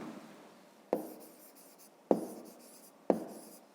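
Numbers written by hand with a pen on paper: three crisp, close strokes land at roughly one-second intervals, each trailing into a soft scratch against a quiet background.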